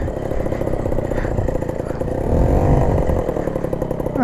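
A Peugeot 103 moped's small two-stroke engine runs steadily after starting, a buzzing, rattling putter close by that swells briefly as it revs, with no talking.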